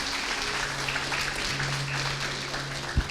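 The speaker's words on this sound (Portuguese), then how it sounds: "Dá uma salva de palmas." A church congregation claps for the pastor at a Portuguese-language Sunday service, a dense, even patter of many hands that carries on throughout, moderately loud and roomy, with a low sustained tone humming underneath.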